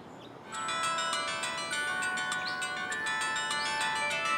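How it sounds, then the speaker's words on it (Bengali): A phone ringtone starts after a brief quiet moment and plays continuously, a bright, repeating electronic melody with no voices. "গুলফিদান ফোন করেছে।"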